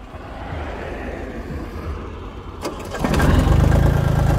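A loader's engine turns over and catches near 3 seconds, settling into a loud, steady low idle after a quieter rumble of background machinery.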